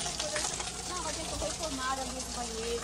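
Atlantic Forest waterfall water running steadily from a tap left open at a Guarujá condominium on the São Paulo coast, a continuous close gushing hiss with people talking over it.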